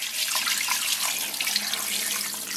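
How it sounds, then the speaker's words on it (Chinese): Water pours steadily and close into a pressure cooker holding fried pork belly, a continuous splashing trickle lasting a couple of seconds with no voices. "然后咱们给锅里边稍微来点水"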